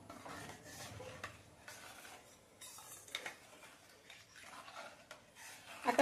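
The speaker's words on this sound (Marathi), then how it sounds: "1 चमचा आपलं साधं मीठ, हे व्यवस्थित हलवून घेणार आहे." Salt, one spoon of black and one of plain, is stirred into amla syrup in a pan off the heat, giving soft, repeated scraping and swishing strokes with a few light clinks, quiet and close.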